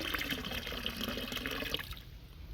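Water pours and trickles out of a gold pan at a creek, a splashy, close run of dripping that thins out and fades after nearly two seconds.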